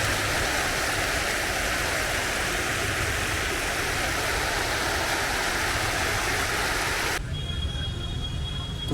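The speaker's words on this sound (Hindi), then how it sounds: "पानी नीचे गिर रहा है और आवाज़ इसकी बहुत प्यारी लग रही है।" Water spilling down a fountain at the entrance of NTR Garden in Hyderabad, a steady, dense, loud rush with no talk, cutting off abruptly near the end to a quieter background.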